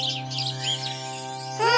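Chirps of a baby bird, high and quick, over a steady sustained music bed; the tweeting stays faint beneath the tones until a brighter burst near the end.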